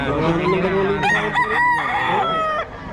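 A White Kelso gamecock rooster crows loudly and up close in one long, drawn-out call with a rising and falling pitch that ends abruptly near the close.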